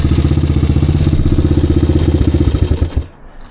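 A 1986 Honda XR200R dirt bike engine runs loud and close with a steady rapid thumping pulse for about three seconds, then cuts off abruptly and falls quiet.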